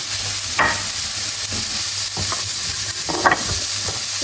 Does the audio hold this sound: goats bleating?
no